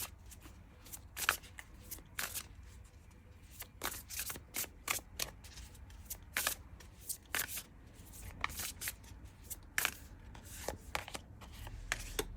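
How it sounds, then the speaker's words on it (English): Playing or tarot-style cards being shuffled by hand in repeated quick riffling bursts, close and fairly quiet, with soft rubbing between bursts and no talking. "I'm just going to pick a card because nothing's coming out."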